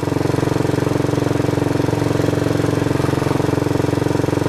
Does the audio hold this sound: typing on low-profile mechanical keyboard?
no